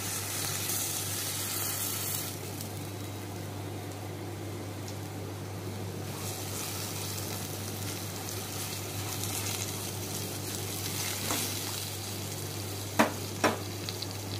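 Potatoes frying in a pan, a continuous broadband sizzle with a steady hum underneath, ending with a few sharp clinks near the end.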